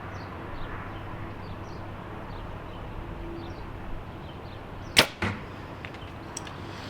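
Elite Rezult compound bow fitted with front and rear stabilizers, scope and peep sight, loosing an arrow with a single sharp snap and a quick second thwack, set against quiet outdoor ambience with faint birdsong.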